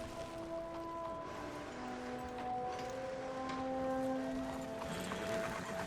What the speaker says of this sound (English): Finally, the horse arrived.